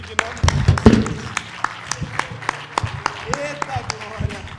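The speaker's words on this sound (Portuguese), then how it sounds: "aplauda comigo em nome de Jesus" A church congregation applauding during a sermon, with scattered, uneven claps that rise briefly and then thin out, and a voice speaking over the clapping.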